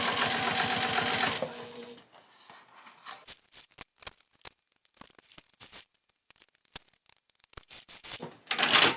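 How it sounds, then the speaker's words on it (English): A sewing machine stitches a saddle bag panel: a steady close whir for over a second, then scattered clicks and handling taps, and a brief return of stitching at the end, with no talk. "So definitely sew it with your main panel on the bed of your machine."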